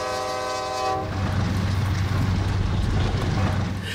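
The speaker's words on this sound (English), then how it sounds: "we caught it with a pair of new GE-8 locomotives in the lead" A CSX freight train in Florida in 1995, led by a pair of new GE locomotives, sounds a loud air horn blast that cuts off into a steady rumble and rattle of the passing train, close and without speech.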